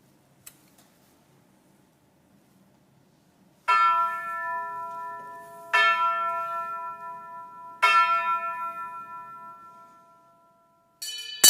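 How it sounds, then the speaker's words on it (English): A ceremonial bell rings out three times at even intervals to close a convention, each strike clear and resonant and fading slowly, followed by the start of a fourth strike after a quiet opening. "ring the SAGIC bell, followed by the SANA bell to close this convention"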